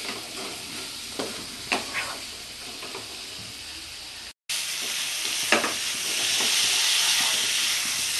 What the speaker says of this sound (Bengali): এভাবে আমি মশলা দিয়ে আলুটাকে খুব করে কষতে থাকব।